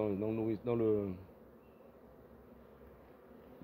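Honeybees buzz around an opened hive colony while frames are handled, a steady low hum under a voice talking near the start, then continuing softly on its own.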